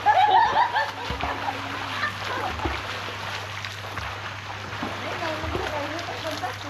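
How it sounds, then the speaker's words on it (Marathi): A splash from someone jumping into a swimming pool opens the clip, followed by sloshing water with voices and laughter nearby. "स्विमिंग पूल मध्ये कुदलोय."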